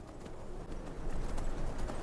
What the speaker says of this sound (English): we're just gonna like borrow this horse